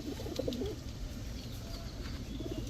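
Giribaz high-flyer pigeons coo softly in repeated, rolling phrases, fairly quiet and close, with no one talking over them.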